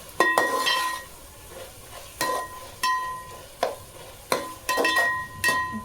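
Curry with coriander sizzling in a pan while it is stirred: a steady close frying hiss broken by regular scraping strokes and metallic clinks of the spoon against the pan, with no talk.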